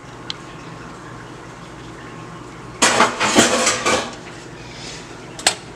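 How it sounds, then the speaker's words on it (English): Water poured off cooked peas from a pot while making Barbados dhalpuri rotis, a quiet kitchen hum first, then a loud splashing gush of about a second with clattering of the pot, ending in a brief clank. "I'm going to drain the water off."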